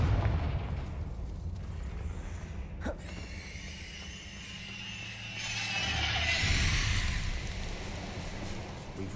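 A Confringo blasting spell explodes in Hogwarts Legacy, a sharp crack followed by a rising whooshing burst and a rumbling blast over a low game ambience.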